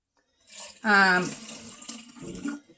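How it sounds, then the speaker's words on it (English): Liquid pours into a water bottle in a single splashing stream of about two seconds, starting loud, then trickling more softly toward the end. "Maybe I should pour it into my water bottle here."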